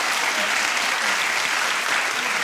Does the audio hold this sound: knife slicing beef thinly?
no